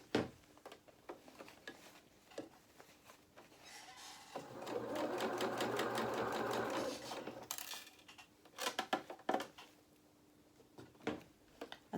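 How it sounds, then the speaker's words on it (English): A sewing machine runs a steady burst of stitching for about three seconds across the folded lining edge of doll clothes, between quiet clicks, taps and fabric handling close by. "we're sewing that folded edge across"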